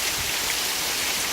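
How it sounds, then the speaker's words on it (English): Heavy rain from a passing storm pours down in a dense, continuous hiss, loud and close, with no voices. "We're just getting a good heavy rain, so real happy to see that."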